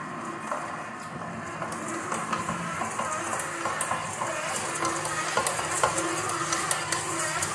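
A stand mixer on low speed 2 kneads Italian rustic bread dough, a steady whirring hum with soft repeated slapping and rubbing of dough against the bowl, close and continuous with no talking.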